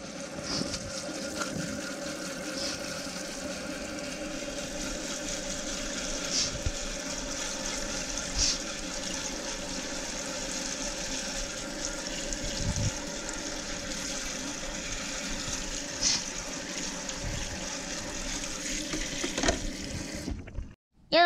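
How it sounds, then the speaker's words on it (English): Water jets spray steadily to wash mud off cargo, producing a continuous hissing rush that holds for about twenty seconds before cutting off abruptly. "So could you use your water jets to wash it off?"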